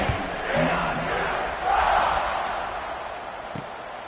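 Stadium crowd at a CFL football game roars and cheers before kickoff, a broad sustained wash of voices that swells twice, with a thump near the end.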